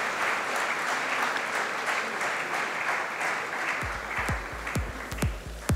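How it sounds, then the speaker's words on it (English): Sustained applause from an audience at the inauguration ceremony of FICCI Frames 2016, a steady dense clapping that continues throughout, with a few louder individual claps near the end. "Can we welcome with a round of applause Mr. Varun Gupta at KPMG India"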